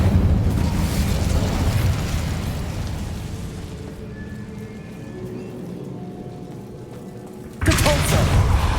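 A fire spell cast in Hogwarts Legacy erupts in a roaring, booming burst of flame that rumbles loudly, fades to a softer crackling hum, then flares with a sharp new blast near the end.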